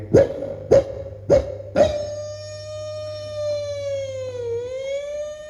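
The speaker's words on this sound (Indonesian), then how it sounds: "Adi lantang. Ini ambulan." An ambulance siren wails steadily and loudly with a slight dip in pitch, following a few sharp barks from a nearby dog at the start.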